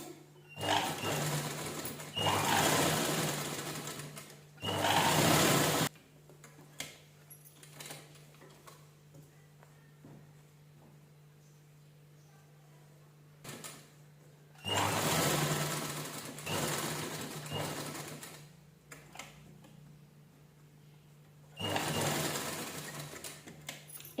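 A sewing machine stitches the neckline of an unlined blouse with a square back neck and canvas facing. It runs in several loud bursts of steady whirring and stops between them, with quiet pauses.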